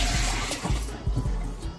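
Liquid is poured out in a short splashing gush, close and fairly loud, with a few soft knocks at the end.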